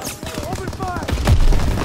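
Gunfire erupts in a Call of Duty WWII battle inside a factory as a Panzer tank approaches, with rapid bursts and a heavy boom building over shouted commands and combat chatter.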